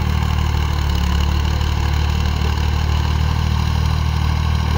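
A 480-model tractor engine runs at a steady idle, a continuous loud low rumble with a constant throb and no pauses, heard up close in a village setting.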